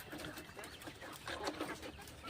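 Chickens clucking on a farm that raises poultry and quail, with a steady run of close, overlapping clucks and calls over noisy rural background.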